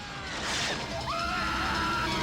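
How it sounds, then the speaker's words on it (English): A woman's high, sustained scream from a 1987 horror film scene, rising sharply and then holding steady for about a second over a dense, loud soundtrack. "Gotta have the beautiful blonde with the great body screaming in a horror movie."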